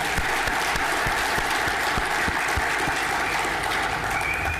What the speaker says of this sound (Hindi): फिर एक बार आप सभी के लिए जोरदार तालियां।